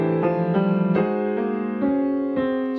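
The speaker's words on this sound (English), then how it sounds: "another what you call a drop 2 progression" Jazz piano voicing a drop 2 chord progression, sustained chords struck one after another at an even, moderate pace, close and clear with no talking.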